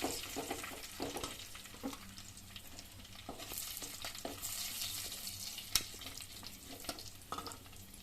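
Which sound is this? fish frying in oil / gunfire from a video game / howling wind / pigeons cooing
fish frying in oil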